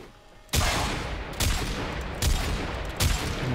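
Rapid gunfire from a weapon in the video game Warframe, shooting a stationary enemy for headshots: dense, sustained bursts with several sharp renewed volleys, loud and continuous after a brief quiet start.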